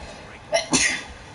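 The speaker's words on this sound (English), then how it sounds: "I have to sneeze." A single person sneezes nearby: a short intake followed by a sharp, loud burst, heard against a quiet background.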